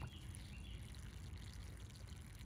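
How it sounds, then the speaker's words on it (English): Water pours softly onto soil around a freshly transplanted tomato plant in a mulched garden bed, a faint, continuous trickle outdoors. "it is always a good practice to water in the transplant"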